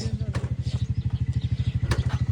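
A motorcycle cold starting after a night out in the snow settles into an idle with a rapid, even chug, close by, while someone talks over it.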